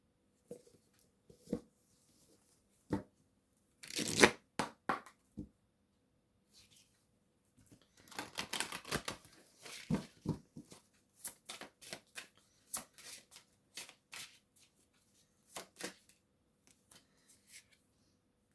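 An oracle card deck is shuffled by hand in a quiet room, with bursts of riffling and soft card slaps, sometimes isolated and sometimes in rapid clusters, close and crisp.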